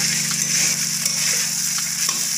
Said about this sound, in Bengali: এটাকে মিডিয়াম ফ্লেমে 5 মিনিট ভাজবো।